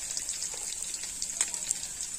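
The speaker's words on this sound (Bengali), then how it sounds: "পেঁয়াজের সাথে বড়ি খুব ভালোভাবে ভেজে নেব।" Onions and bori lentil dumplings fry in a pan, giving a steady, fine high crackle with a few sharper pops, fairly close and without talk.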